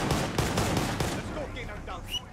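Video game gunfire: a few sharp shots in quick succession, followed by fainter game sounds and brief tones as the shooting stops.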